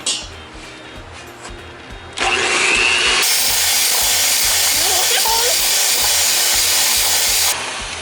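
An electric mixer blending sugar for cupcake batter, a loud continuous whirring drone that steps up in intensity partway through, then runs steadily before easing slightly near the end.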